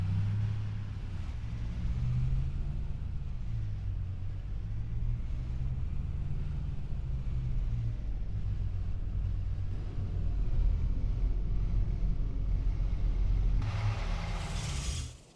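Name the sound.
truck engine driving in Farming Simulator 25 video game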